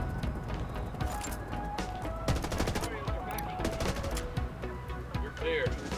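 Gunfire in the video game Ghost Recon Wildlands comes as dense, rapid bursts of shots layered over a busy, constant game soundscape, loud and continuous for several seconds.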